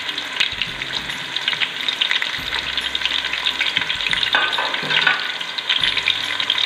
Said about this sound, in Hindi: साथ ही इसमें मैं डाल रही हूँ 1 खाने का चम्मच लहसुन अदरक का पेस्ट।